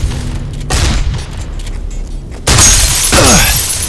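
Gunfire in the horror game Condemned: Criminal Origins, an enemy shooting a gun; two abrupt, loud booming blasts with crashing, shattering tails, the second one sharper and followed by a brief ringing sweep.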